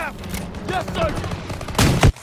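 A quick burst of gunfire in the Call of Duty WWII video game rings out near the end, following a stretch of in-game soldiers shouting orders over the battle.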